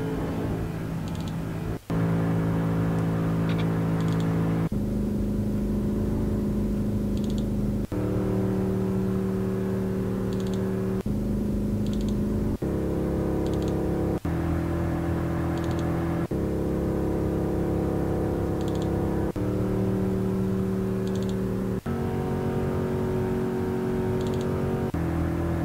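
Recorded car engine throttle samples played back one after another, alternating steady on-throttle and off-throttle tones of different pitch, each lasting a few seconds with abrupt cuts between them, loud and close with no talking.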